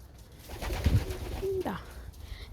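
Pigeons at their feed coo softly nearby, a couple of low throaty calls rising and falling over faint background noise.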